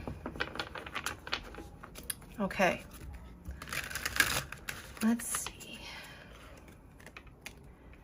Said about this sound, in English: these cards are so difficult to shuffle